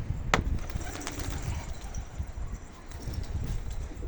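A pigeon coos softly nearby on a rooftop amid outdoor ambience, with a sharp tap or click early on.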